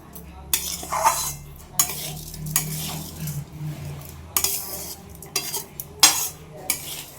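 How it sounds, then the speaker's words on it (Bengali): Rice, ghee, garam masala, cashews and raisins are stirred in a wok, and a spoon scrapes and clanks against the metal in irregular bursts over a faint low sizzle. "এবার আমি 5 মিনিটের মতো ভাজবো। ঘি, গরম মশলা, কাজু, কিশমিশ, সব নুন মিষ্টি সব কিছু দিয়ে আমি একবারে ভাজবো।"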